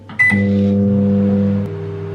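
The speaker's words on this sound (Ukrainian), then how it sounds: "Ставлю в мікрохвильовку на одну хвилину." A microwave oven heating half a glass of water with gelatin starts with button beeps and a click, then hums steadily and loudly up close with no talk.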